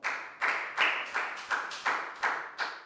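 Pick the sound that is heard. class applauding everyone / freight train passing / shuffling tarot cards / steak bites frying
class applauding everyone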